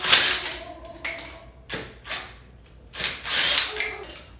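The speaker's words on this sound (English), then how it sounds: "now that your lug nuts are loose and your tire is fully off the ground, you can remove your lug nuts" Lug nuts are taken off a 5th-generation 4Runner wheel with a tool, making several short ratcheting and metallic clicking bursts separated by brief pauses, close and fairly loud.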